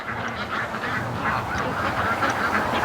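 Ducks keep up a continuous chorus of honks and quacks outdoors, a dense overlapping flock close by, with wind rushing steadily underneath.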